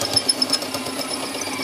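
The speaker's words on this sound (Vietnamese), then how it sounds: "khoan từ từ nháy thôi" Drill bit boring slowly into stainless steel in short bursts, a steady close grinding whine with a few sharp bites near the start and no talk over it.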